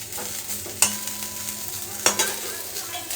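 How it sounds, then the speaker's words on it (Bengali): Food dry-fries in a wok with no oil while being stirred, a soft crackle and sizzle broken by two sharp scraping clacks of the spoon against the pan. "কড়াইয়ের মধ্যে এটা নাড়াচাড়া করতে করতে এটা একদম মুড়মুড়ে ভাজা হবে"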